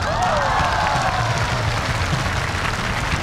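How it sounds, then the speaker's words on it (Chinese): A studio audience applauds to welcome violinist Zhang Shaobo on a Chinese variety stage, a loud, dense wash of clapping and cheering with a rising whistle-like tone near the start, sustained evenly throughout. "来，掌声欢迎张邵博。"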